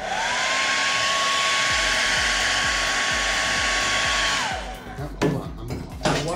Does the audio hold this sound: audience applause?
no